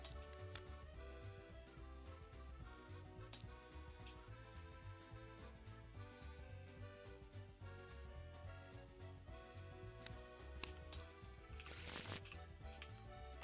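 A deck of cards for the Marvel Legendary deck-building game is shuffled in a short, rapid riffle near the end, heard over steady background music.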